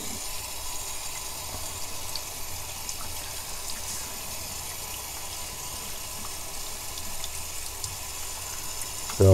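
Running tap water pours steadily over a face mask being rinsed under a faucet, a soft, even gushing stream at a quiet level, alone, with no talking.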